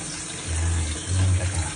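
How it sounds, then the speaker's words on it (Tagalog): First-press coconut milk pouring into a pan while cooking a Filipino dish, making a low, steady liquid gush in two short bursts, close and moderately loud. "lalagay na natin yung unang gata"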